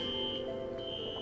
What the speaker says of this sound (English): That's the fire alarm in my condo complex.